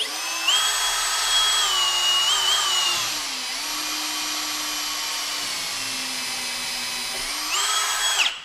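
A power drill boring a pilot hole into a 3/4-inch melamine panel, a close, steady whine that rises and dips in pitch as the bit spins up, slows midway, then speeds up again before stopping.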